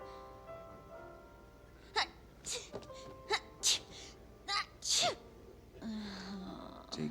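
A sneeze from a character in the Cowboy Bebop anime episode "Jupiter Jazz: Part One," one of several short bursts heard among moans, gasps and background music, moderately loud and close.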